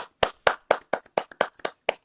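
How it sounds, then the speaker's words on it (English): Nine crisp, evenly spaced hand claps ring out alone and up close, standing in for an applause effect on a sports talk podcast. "Wish I could do the applause on here."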